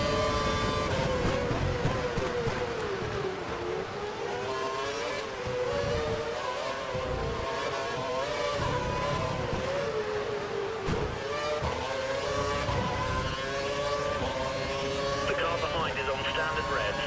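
A Formula One race car engine screams at full revs in the F1 2012 racing game at the Abu Dhabi Grand Prix, Yas Marina, a continuous high wailing drone that rises and falls slightly with gear changes while a commentator talks over it.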